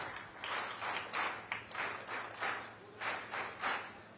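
Audience applause welcoming the chief minister at a government event in Chhattisgarh comes in rhythmic bursts of clapping, swelling and falling about every half second, fairly faint and distant.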